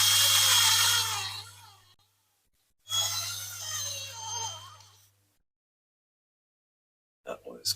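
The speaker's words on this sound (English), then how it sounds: "So let's get a drill on it straight away," A power drill bores out the rivets of a Dinky Toys 23E Spirit of the Wind diecast model car, running in two sustained whining bursts separated by silence, followed by a few short clicks at the end.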